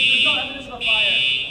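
A fire alarm blares in a loud, steady high-pitched tone, briefly dipping before resuming, with people talking underneath it.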